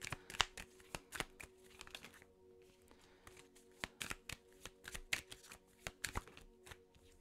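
A deck of tarot cards is shuffled and cards are drawn one at a time, giving soft, quick riffling and flicking clicks, fairly quiet and close, with a brief lull midway.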